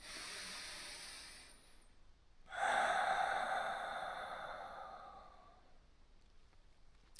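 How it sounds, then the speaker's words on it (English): Deep relaxing breath, a faint drawn-in inhale followed by a longer, louder exhale that slowly fades, close and alone. "just take some deep breath to relax. One last deep breath."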